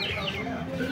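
Two-month-old chickens cluck busily for a brief moment at a Sunday animal market in Ranjitpur, Bahraich, several birds calling at once from close by.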